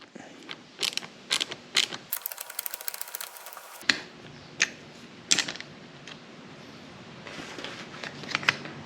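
Quiet, scattered clicks and ticks come from a Torx T20 bolt being unscrewed inside a 2005-2014 Ford Mustang interior, with a brief harsh whirring burst in the middle.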